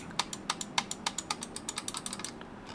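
Buttons on a RAWM SA-ML01 gaming mouse are struck hard, producing about twenty sharp, close plastic clicks with a faint hollow rattle, spaced irregularly and quickening toward the end.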